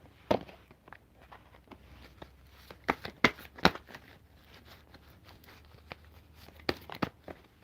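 Soft, quiet riffling of playing cards, a few sharper snaps and flutters against near silence.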